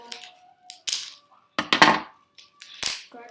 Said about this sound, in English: cut this plastic.